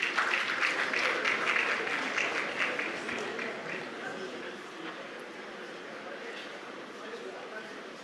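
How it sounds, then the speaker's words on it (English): A large audience in a hall at an international banking conference applauds a government minister with a broad, distant wash of clapping that gradually softens over several seconds. "Please give her a round of applause."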